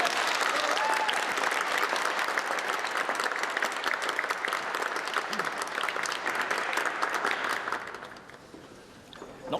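A crowd at a village meeting in Houghton and District breaking into loud sustained applause for a speech, many hands clapping steadily before it fades out at the end.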